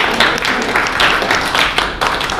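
Audience applause for Ryan Boudinot at a live event, a steady wash of many hands clapping at close range with a few brief dips and swells, and faint voices mixed in.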